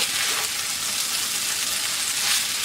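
Chicken fried rice ingredients are stirred together in a hot pan, giving a steady, close hiss of frying and sizzling with a faint scraping texture and no pauses.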